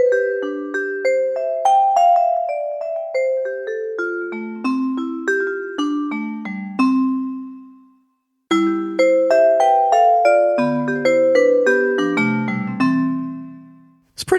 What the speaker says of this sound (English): So let's listen to the vibes sound in this.